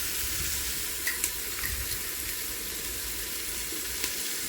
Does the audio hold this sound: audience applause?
no